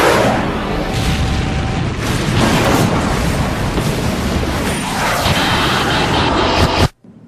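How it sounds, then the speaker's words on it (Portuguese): A loud, sustained roaring blast of heavy impact noise from an airliner collision, dense and rumbling throughout, cutting off abruptly at the end. "houve um baque, um impacto enorme"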